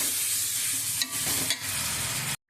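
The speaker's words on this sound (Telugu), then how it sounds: "రొయ్యలు మొత్తం వేసేసుకొని బాగా కలపాలండి." Prawns being mixed into frying gongura masala in a pan, a steady sizzle with a couple of stirring scrapes, close and fairly loud, no talking.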